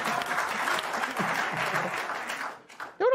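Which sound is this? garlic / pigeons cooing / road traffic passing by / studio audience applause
studio audience applause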